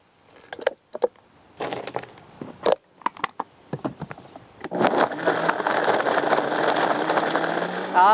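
A blender mixing a thick strawberry milkshake: a few knocks and clatters first, then the motor starts and whirs steadily and loudly through thick liquid, close by.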